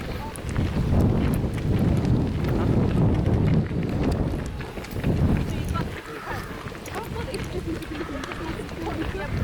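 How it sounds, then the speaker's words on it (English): Wind buffets a microphone on a countryside walk, making loud gusting low rumbles that swell and ease, easing off near the end, with people talking through it. "I hope they can hear us, Shaun, because it is windy."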